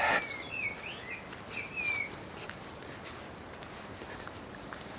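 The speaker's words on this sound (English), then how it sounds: "lovely blackbird up there singing" Blackbird singing outdoors, a few bright fluting phrases near the start and a faint call later, over steady broadband outdoor noise with soft shuffling.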